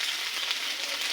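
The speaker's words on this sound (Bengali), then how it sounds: "এখন সোয়াবিন আলুটা ভাজছি।" Soybean chunks and potatoes fry in a pan with a steady, dense sizzle that holds close and fairly even throughout, with no voices.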